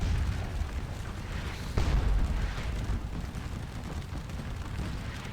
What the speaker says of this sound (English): So again, these cannons are firing not shrapnel but canister shots.